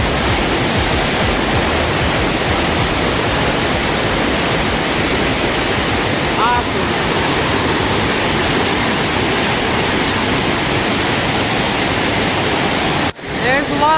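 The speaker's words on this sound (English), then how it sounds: "Waterfall." A loud, continuous roar of rushing white water from a nearby waterfall chute between rock walls in Franconia Notch State Park, dense and unbroken, with a brief faint voice partway through.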